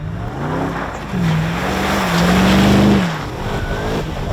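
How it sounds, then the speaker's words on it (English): A 2018 Harrop Superado's performance V8 engine roars as it accelerates, the pitch climbing through gears in a loud, close, continuous growl with brief dips between shifts. "It's noise, ferocity, all the things you love out of a performance V8 engine."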